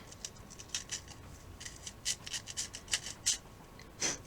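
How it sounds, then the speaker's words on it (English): Sandpaper scuffing a shiny part of an Estes Magician model rocket, a quick series of short rasping strokes, close and fairly quiet, with no voices. "We're scuffing it with sandpaper."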